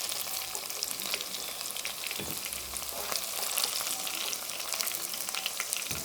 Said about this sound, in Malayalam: ഇതൊന്ന് വഴണ്ട് വരട്ടെ. നമ്മുടെ വെളുത്തുള്ളി കൊച്ചുള്ളിയൊക്കെ ഒന്ന് മൂത്തിട്ടുണ്ട്.